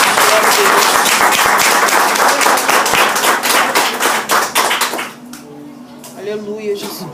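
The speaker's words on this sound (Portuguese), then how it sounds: "Quem pode aplaudir a palavra do soberano nessa noite?" Loud applause from a church congregation at an evening service, dense clapping that tapers off after about five seconds, followed by voices speaking.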